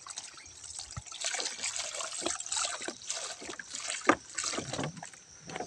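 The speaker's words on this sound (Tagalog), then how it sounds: "At ngayon, lagyan natin ng tubig." Water pours and splashes into a very large cooking pot holding corn on the cob, an uneven close trickle and gush with a few sharper splashes, no talking.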